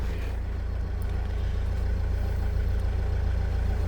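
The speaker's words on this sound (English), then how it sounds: "so we'll start the vehicle up" A Mercedes Sprinter van in limp mode with no turbo pressure idles with a steady, even low rumble that holds without change throughout.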